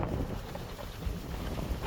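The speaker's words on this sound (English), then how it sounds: "Wow, it is windy." Strong wind buffets the microphone in a continuous low rumble with gusty swells, steady and loud throughout with no voices.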